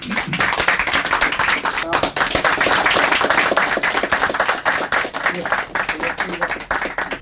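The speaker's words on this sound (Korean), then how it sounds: "큰 박수로 축하해 주시기 바랍니다." An audience applauds at a book launch event, a dense, sustained round of clapping from a crowd indoors that fades slightly toward the end.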